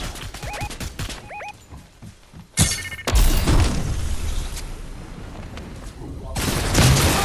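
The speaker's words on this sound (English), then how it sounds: "The bomb blew him off." A bomb explosion in Fortnite: a sharp blast followed a moment later by a second heavy boom that rolls into a long, loud rumble, with scattered game sounds before and another burst near the end.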